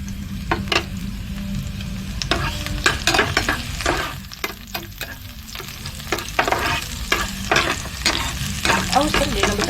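Egg frying in a hot pan while a utensil stirs and scrapes through it, with a steady close sizzle and repeated sharp scraping strokes throughout.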